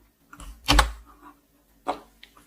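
Keystrokes on a computer keyboard: a quick cluster of close clicks, then a single isolated tap a second later, with no talking over them.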